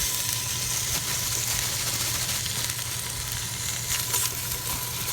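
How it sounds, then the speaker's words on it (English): Onions and peppers sizzle in hot oil, a constant close crackling hiss with faint stirring beneath it and no voices. "So I'm going to go ahead and add my onions and peppers."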